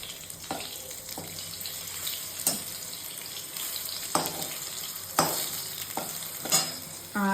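Potatoes fry in a pan with a continuous low sizzle, broken by several sharp scrapes and clatters as they are stirred and turned.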